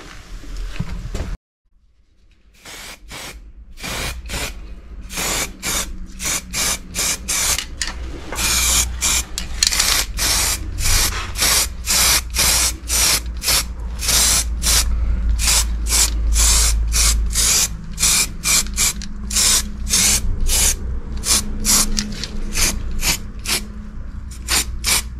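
An aerosol can of clear lacquer sprays in a long run of short, sharp hissing bursts, close and loud, repeating rhythmically after a brief quiet start.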